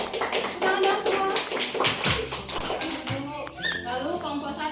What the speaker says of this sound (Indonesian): Tepuk tangan dong buat kelompok 2. Tepuk tangan semua.